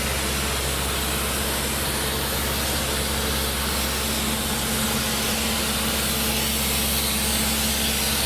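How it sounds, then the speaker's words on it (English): A high-powered pressure washer sprays down and cleans pavement at a downtown civic center mall renovation site, making a steady, loud, continuous broadband hiss with an engine drone underneath, unbroken for the whole stretch. "they're just doing their high-powered spraying down here, cleaning the area up, getting it prepped"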